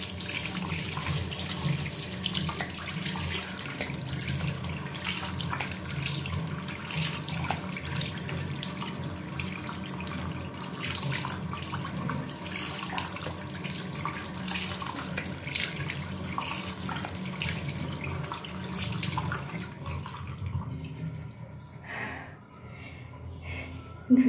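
Water runs steadily from a tap into a sink while a face mask is washed off, with splashing and occasional breathy sounds close by, stopping near the end.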